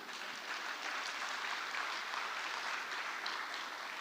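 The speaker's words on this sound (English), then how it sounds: "Please, let's clap in." Faint, steady audience clapping at a summit session, a distant continuous patter of many hands with no talk over it.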